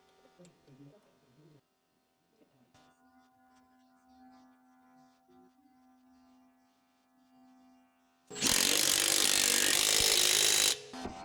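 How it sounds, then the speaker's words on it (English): Impact wrench with a 22mm socket tightening lug nuts on a reinstalled wheel of an Acura MDX, one loud close burst of about two and a half seconds after quiet workshop sounds. "Hand start the lug nut and use a 22mm socket on the impact to tighten."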